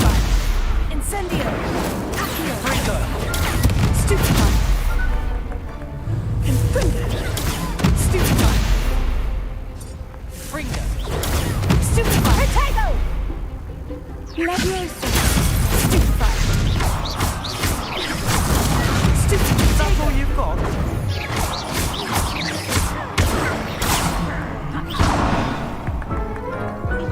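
Spell combat in the Hogwarts Legacy video game, with dense, rapid magical blasts, crackles and whooshing impacts piling on each other nearly nonstop, loud and close throughout with brief lulls between flurries.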